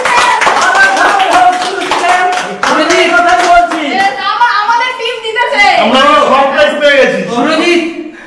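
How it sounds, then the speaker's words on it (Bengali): Loud, sustained round of applause from an audience at a prize challenge event, dense clapping continuing throughout with voices and cheering mixed in. "একটা জোরে হাততালি"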